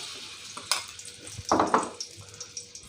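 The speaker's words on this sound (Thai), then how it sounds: "เราจะผัดพริกแกงให้หอมก่อนนะครับ" Thai curry paste frying in a little oil in a hot pan, with crackling sizzle and a couple of louder bursts as it is stirred, close up, no talking.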